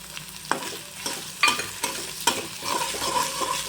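Onion and carrot frying in a pan for vegetable upma, a steady close sizzle broken by several sharp stirring scrapes and clatters of a spoon against the pan, with no talk.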